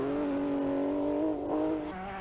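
A 1985 Donegal Rally stage car, a Porsche or Opel Ascona, screams past with a sustained high engine note that rises slightly then drops as it shifts, heard from a moderate distance.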